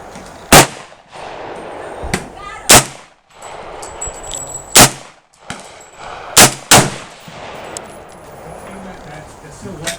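A New Frontier AR 45 rifle fires single loud, sharp shots at uneven intervals outdoors, each crack followed by a short echo, with faint metallic clinks between rounds.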